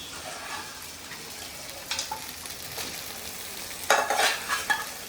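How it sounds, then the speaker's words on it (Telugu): Ginger paste fries in a pan with a steady soft sizzle, and a spoon scrapes and stirs it in a few brief bursts, the loudest near the end. "అల్లం పేస్ట్ కూడా ఇప్పుడు వేగిపోయింది"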